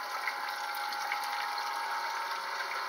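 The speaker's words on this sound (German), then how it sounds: "Hier sieht man, da ist noch kein Filterschaum drin und das Wasser spritzt raus." Water spraying from the sprinklers of an aquaponics system with no filter foam fitted yet, a continuous hissing splash with a steady pump-like wash and no voices.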